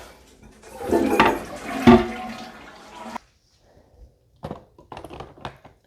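Water pours with a splashy rush into the tank of a SmartMi A1 Vortex Wave robot vacuum mop for about three seconds, followed by a few sharp plastic clicks and taps as the tank is handled.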